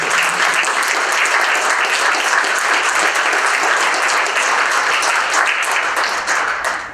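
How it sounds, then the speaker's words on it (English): A room full of people at a Martin Luther King Jr. celebration in Cleveland Heights claps for young poets, a loud, dense and even round of applause that holds steady for several seconds, then tapers at the end. "Can y'all clap for them to make sure they know?"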